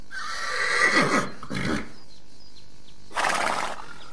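A horse on a ranch neighs and whinnies loudly and close by, a shrill call early on followed by a shorter snort and another whinny near the end, with no speech.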